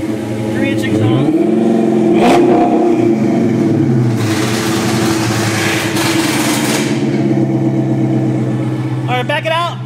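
A 2012 Dodge Charger SRT8 with a custom 3-inch exhaust revs loudly nearby, engine rising and falling through several throttle blips, with voices talking over it.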